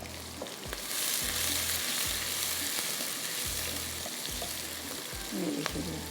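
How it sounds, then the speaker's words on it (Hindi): Onions frying with cumin and black pepper in hot oil for a tarka, a close, continuous sizzle with stirring clatter and a soft scrape near the end. "प्याज के साथ थोड़ा सा हम इसको फ्राई करेंगे।"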